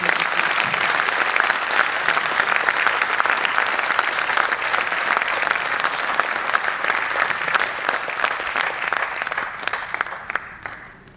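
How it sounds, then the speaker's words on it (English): Sustained, full applause from a seated audience at an engineering convention's inaugural session, dense and even for about ten seconds before fading out at the end. "Ladies and gentlemen, may we now have a round of applause for our speaker."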